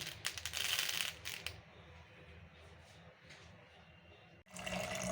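Water is poured over chana dal in a bowl to soak it, with a splashing burst at the start, a quieter trickle in between, and another pour near the end.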